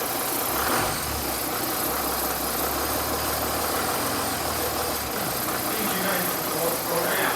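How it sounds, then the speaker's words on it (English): A Mercedes E350 engine idles steadily with a low rumbling hum and faint vibration, with a persistent noisy high-pitched squealing belt whine running over it. "Got a little bit of a squealy belt there."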